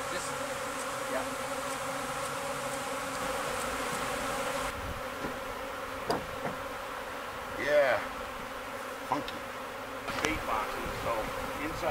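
A swarm of honey bees during a hive rescue and extraction outdoors in Ontario, a dense, steady buzzing drone throughout with a few brief louder passes close by.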